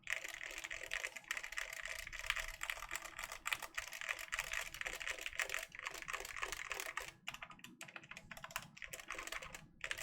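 Rapid, continuous typing on a mechanical keyboard, close and crisp, with dense clacking keystrokes running throughout and no voices.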